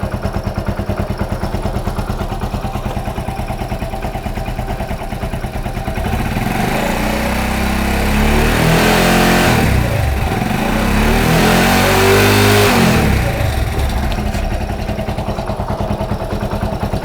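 A motorcycle engine idles with a steady clatter, then revs up twice as the throttle is opened, pitch rising and falling close by, loud and without talk.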